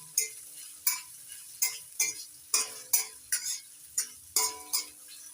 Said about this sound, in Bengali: এবার নাড়াচাড়া করে ভেজে নিতে হবে যতক্ষণ না পেঁয়াজটা লালচে করে ভাজা হয়ে যাচ্ছে